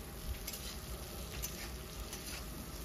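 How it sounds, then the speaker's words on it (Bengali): Potato pieces frying in oil in a covered pan with salt and turmeric, giving a steady close sizzle with soft crackling pops throughout and no talk. "এখন আলুটাকে আমরা লাল করে ভেজে নেব।"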